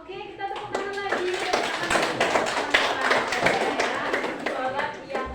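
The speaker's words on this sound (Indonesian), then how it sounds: "Oke, kita tepuk tangan lagi." A group claps hands together in a classroom lesson on prayer, a dense, steady run of near claps that blends with children's voices and chatter throughout.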